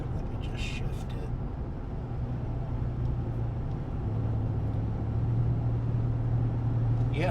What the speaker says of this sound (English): I'm running 50 mile an hour in 4-wheel drive now